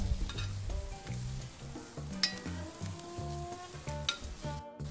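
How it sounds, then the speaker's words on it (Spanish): Bacon browning in its own fat in a frying pan sizzles steadily and close by, with faint stirring and scraping over it and no voices. "voy a colocar el tocino en un sartén para que se dore con su propia grasa"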